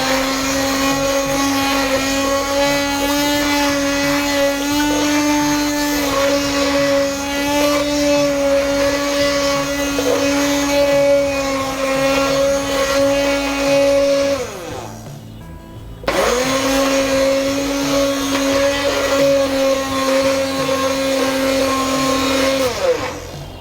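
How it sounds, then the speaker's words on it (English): Hand blender blending hot tomato soup gives a loud, steady high-pitched whine that dips briefly near the end and then resumes at full power, with no talking. "we can use this hand blender directly while the soup is still hot"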